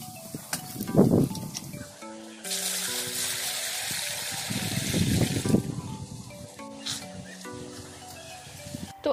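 Utensils are washed outdoors with water drawn from a well, with splashing and gushing water, clattering dishes and rustling close by; brief voiced tones come and go, but no clear speech.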